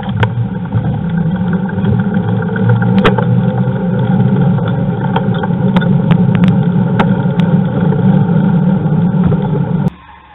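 A car engine drones loudly and steadily from inside a vehicle on a narrow road as another car passes, with scattered clicks and knocks over the hum before it suddenly drops away at the end.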